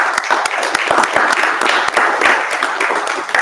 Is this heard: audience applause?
yes